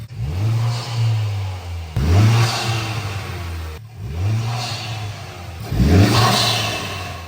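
A Honda Civic Type R FK8 fitted with an Eventuri cold air intake revs hard in four loud, close bursts, each climbing sharply and falling away with a whooshing intake roar, with no talking.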